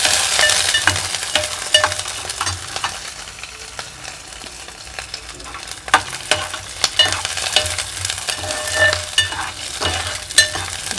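Garlic fries in oil with mustard seeds in a pan for a drumstick and garlic kuzhambu, giving a steady sizzle with frequent sharp crackles and spoon stirring scrapes, close and without talk.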